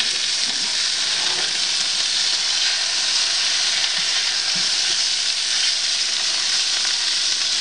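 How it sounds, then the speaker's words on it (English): Lamb burgers sizzling in a frying pan, a steady loud hiss of frying fat with faint occasional clinks, continuous and close. "Give my burgers a flip here."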